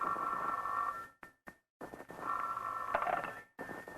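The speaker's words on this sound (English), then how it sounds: "the next morning, the phone rang early." An old telephone rings loudly on its own in a radio drama rehearsal: two long buzzing rings separated by a short silent break, with a further short pause near the end.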